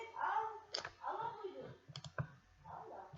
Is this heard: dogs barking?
no